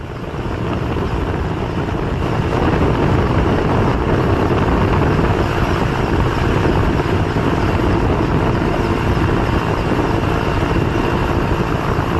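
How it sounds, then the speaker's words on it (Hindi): A helicopter hovers during a flood rescue in Pathankot, its rotor and engine making a loud, steady, continuous roar that stays close and constant throughout without any speech. "अब हेलीकॉप्टर पहुंचा और इन्हें कैसे निकाला गया, देखिए"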